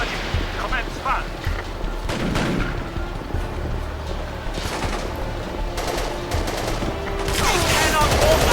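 Enemy gunfire in the combat game Battlefield 2: Modern Combat, a dense continuous fusillade of rifle and machine-gun bursts with booming impacts, loud and sustained throughout, swelling toward the end.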